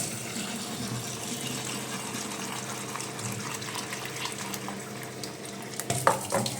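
Water runs steadily from a tap in a continuous hiss, ending with a few clinks and splashes near the end.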